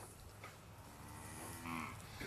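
Cattle moo in a corral, with one drawn-out, fairly faint bellow near the end over a steady outdoor background. No one speaks.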